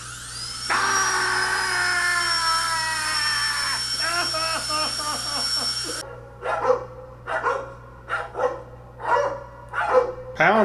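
Several dogs barking and yipping as a spooky Halloween pound effect, a long whining howl first, then a run of sharp repeated barks, loud and close.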